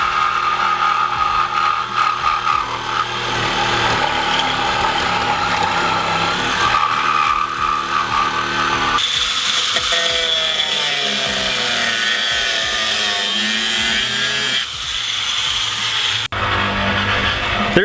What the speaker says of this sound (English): there's more cutting to do, and it's cutting out the old frame rails